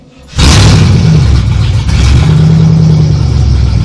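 A 1986 Chevrolet Camaro IROC-Z28 that has sat unused for a while fires up after a short crank and settles into a loud, close, steady rumbling idle with a brief dip in the middle.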